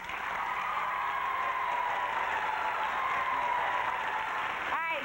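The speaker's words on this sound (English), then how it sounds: "Please put your hands together for Mr." Game show audience applauding a contestant, a steady, dense wash of clapping sustained throughout, fairly loud and close, with a brief cheer-like sound at the very end.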